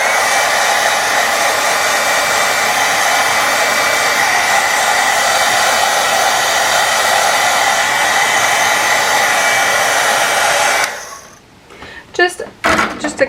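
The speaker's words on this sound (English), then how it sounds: "Just a quick heat set from the heat gun works well." A heat gun runs steadily and loudly for about eleven seconds, drying watercolor on a stamped card, then cuts off, leaving a few soft handling clicks and taps.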